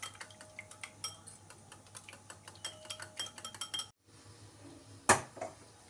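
A utensil clinks briskly against a bowl while eggs are beaten with salt and pepper, in quick uneven taps that pause briefly before one sharp clack.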